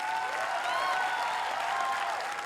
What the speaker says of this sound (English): Can we have another round of applause for her?